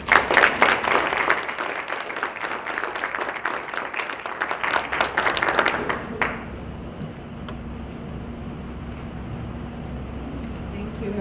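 An audience at a library dedication ceremony claps loudly for about six seconds, dense and sustained, then the applause cuts off, leaving a quiet room hum.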